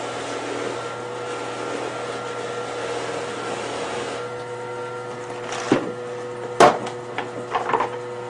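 A buffing wheel spins against a piece of wood, giving a steady whirring hum. Near the end come several sharp knocks and rubbing scrapes.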